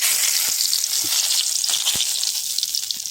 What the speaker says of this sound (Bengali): আমি ঘিয়ে দিয়ে দেবো তেজপাতা